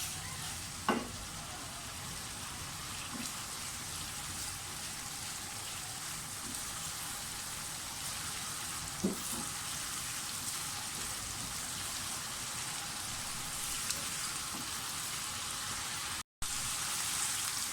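Steady, continuous sizzling of a thick ground onion puree frying in a pan, with a few soft scrapes and clinks of stirring; no voices.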